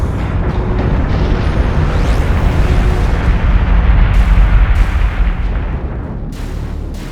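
Fleet weapons firing in the space strategy game Battlestar Galactica: Deadlock, a loud continuous rumble of booming artillery-like blasts and bursts that swells in the middle and eases off toward the end, with no voices.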